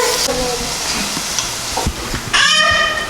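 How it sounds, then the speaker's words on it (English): Rice and Filipino escabeche sauce simmering in pots on the stove: a soft frying hiss with a few light clinks and stirring knocks, then a louder burst of sizzle near the end. "so both are simmering, the rice and the escabeche sauce"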